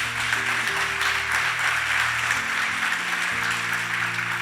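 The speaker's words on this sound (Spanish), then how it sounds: "Dale un fuerte aplauso al Señor" Congregation applause after a church sermon, a steady dense wash of clapping filling the whole stretch with a low hum underneath, no voice on top.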